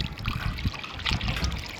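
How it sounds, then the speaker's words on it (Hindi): Water pours into a container for caged chickens, a close, continuous splashing trickle that runs alone for about two seconds. "पानी भी डाल दिया।"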